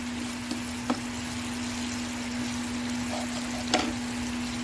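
Tomatoes frying with browned onions in a curry pan, a steady soft sizzle with a constant hum behind it and a couple of faint clinks.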